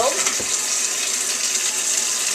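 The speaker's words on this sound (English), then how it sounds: "get that water running." Water runs from a kitchen tap while navy bean soup is made, the beans being rinsed and drained; a steady, close, fairly loud gush lasts throughout, with a brief clatter at the start.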